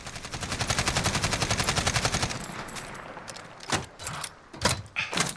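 Automatic fire from an AKS-74U in Call of Duty Modern Warfare: a rapid, evenly spaced burst of about two seconds, then a pause and several short, sharp bursts, loud and close with no talk.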